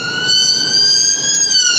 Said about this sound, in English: Ambulance stopped us then from getting through these lights.